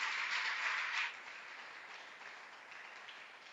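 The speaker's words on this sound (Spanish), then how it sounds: "Dele un fuerte aplauso al Señor en esta mañana." A church congregation applauds during a Spanish-language sermon, a fairly faint, broad wash of clapping that is strongest in the first second, then thins to a lighter, sustained patter.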